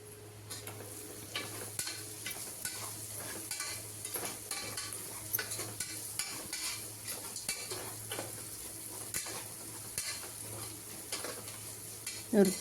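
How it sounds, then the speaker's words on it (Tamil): Vegetables sautéing in a pan for homemade veg biryani, a soft, quiet sizzle with frequent irregular clicks and scrapes of a spoon stirring against the pan, close and low, with a slightly louder knock at the end. "ஒரு அரை வேக்காடு வேகிற வரைக்கும் நல்லா வதக்கிக்கலாம்"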